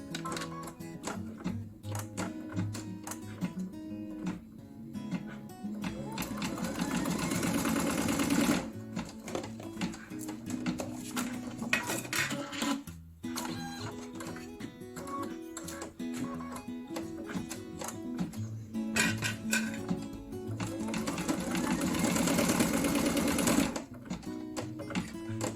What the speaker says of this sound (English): now it's going to stitch out the 2 placements for the elastic